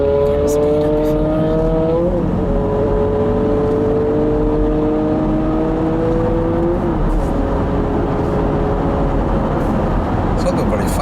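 A car engine droning loudly while driving, holding a steady whining pitch that climbs through gear changes, close and continuous under occasional talking.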